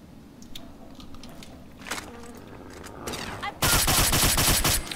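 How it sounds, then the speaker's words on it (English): Gunfire in the video game Fallout 3, a few scattered shots early followed by a loud rapid burst of automatic fire near the end, over a low game background. "Oh, what a shot."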